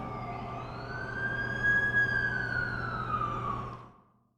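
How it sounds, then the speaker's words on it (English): An ambulance siren in a Spider-Man video game cutscene wails in a steady rising and falling tone over a low vehicle rumble, then cuts off abruptly near the end. "That's the ambulance I called."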